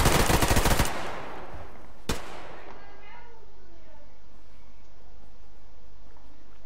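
Rapid automatic gunfire from a machine gun in the Survarium shooter game, a loud dense burst for about a second, then a single sharp shot followed by fading echoes and quiet ambience.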